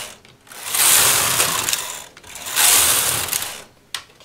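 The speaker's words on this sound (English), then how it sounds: "knit a row" A knitting machine carriage is pushed across the needle bed to knit a row, making a loud, continuous mechanical ratcheting whir in two long sweeping passes, with a short click at the end.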